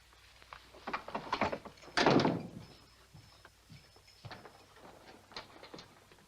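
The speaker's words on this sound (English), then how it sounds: "Lock the door and don't let anybody else in." A door thuds shut with a heavy wooden knock, preceded and followed by a clatter of bolts and footsteps, close and fairly loud in a Western setting.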